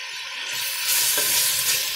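Ingredients for red pumpkin soup sautéing in a pot, a steady close sizzle with a few scraping stirs that grows a little louder partway through.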